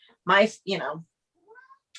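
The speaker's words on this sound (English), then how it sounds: "ow, stupid cat" An indoor house cat gives two quick, fairly loud meows close by, followed by faint, thin squeaks and near silence.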